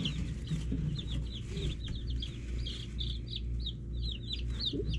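Young white Australorp and buff chicks cheep in a steady flurry of high, quick peeps, close and fairly loud over a constant low hum.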